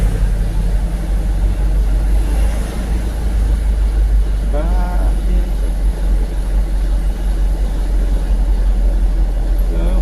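Steady low drone of a traffic jam in Lawang Bato, Valenzuela, with idling car, bus and truck engines, a brief horn-like tone midway, and a voice speaking briefly nearby.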